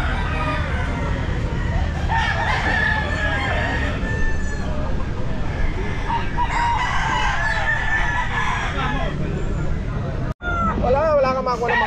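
Roosters at the busy Grotto pet market crowing and clucking repeatedly, several birds overlapping near and far over constant crowd chatter and people talking.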